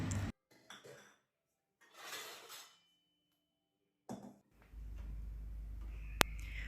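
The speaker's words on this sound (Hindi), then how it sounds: "तो सबसे पहले मैं बर्तन रख दूँगी।" Dishes and utensils being put away in a home kitchen: a few separate bursts of clattering and clinking with quiet gaps between, then a low background hum and a sharp single clink near the end.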